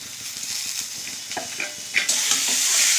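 Chopped banana stem goes into a hot pan for a home-cooked dish, and a steady close sizzle is stirred along with light scraping before a louder hissing surge near the end.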